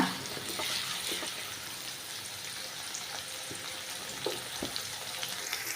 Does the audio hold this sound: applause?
no